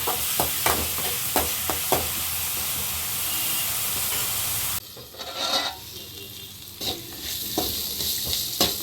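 Curry leaf paste seasoned with salt and turmeric sizzles and fries in a pan, a steady hiss broken by repeated scraping stirs and spoon taps, close and continuous.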